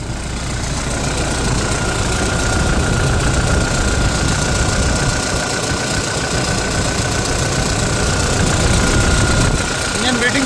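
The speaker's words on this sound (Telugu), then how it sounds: "స్టార్ట్ చేశాను. ఇంజన్ సైలెంట్గా ఉంది." A 2019 Toyota Innova Crysta G variant diesel-era MPV engine idles loud and steady after starting, a continuous close rumble with a faint rhythmic knock and no break.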